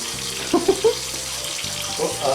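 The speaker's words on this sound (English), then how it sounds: "she's getting the warm water" Warm water runs from a kitchen tap in a steady stream, with brief clattering as something is rinsed, while voices talk faintly in the background.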